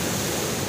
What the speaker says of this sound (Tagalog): malaki ang alon